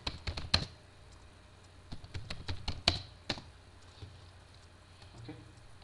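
Sparse keyboard typing on a computer while entering string-formatting code, a few scattered key taps early in the stretch and then fading to quiet, close and fairly soft.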